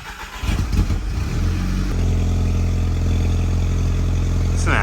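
A Volkswagen Mk6 GTI fitted with an ECS catted downpipe cranks over and fires up, the starter whirring briefly before the engine catches and settles into a steady, loud, close idle.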